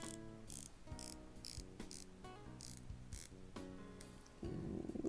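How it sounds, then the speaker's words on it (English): Zelos Mako dive watch bezel turned in a steady series of light, close clicks with slight play, sounding only moderately clicky, followed by a brief louder rubbing noise at the end. "very slight play, not all that clicky, decent bezel action I would say."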